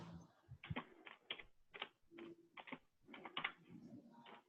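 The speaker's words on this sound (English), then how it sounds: "Oh, I hear somebody typing something in." Rapid, irregular clicking of keys on a computer keyboard, close and fairly quiet, in uneven bursts with short pauses, typed during a live online hangout.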